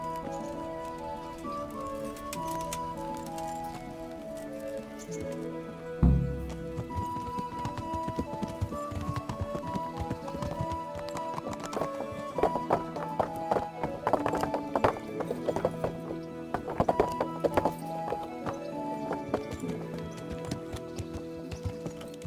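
Horse hooves clip-clop in steady rhythm as Henry rides in Kingdom Come: Deliverance, set against orchestral game music, with a louder thump near the start and denser hoofbeats later.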